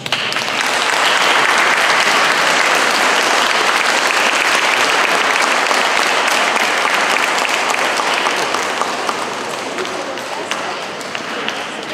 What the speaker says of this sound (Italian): Può fare anche un applauso, eh?